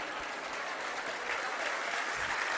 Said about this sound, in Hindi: अब ये सबसे ज्यादा तालियां बज गई